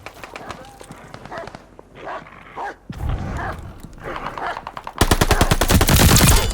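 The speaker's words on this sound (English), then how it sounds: "Take that dog down." Dog barks mixed with rapid gunfire in Call of Duty: Vanguard multiplayer, loud bursts of shooting especially toward the end, with game voice lines over the action.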